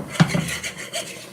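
A utensil scrapes and stirs browning hamburger gravy in a pan, giving a couple of close metallic knocks followed by softer scraping and rubbing, fairly loud with no talk.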